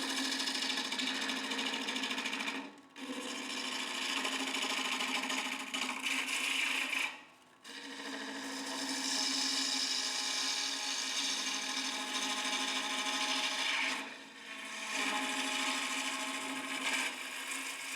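Wood lathe cutting a segmented turning, a loud, steady scraping and hissing tool cut broken by three brief pauses where the tool lifts off, with a faint motor hum underneath.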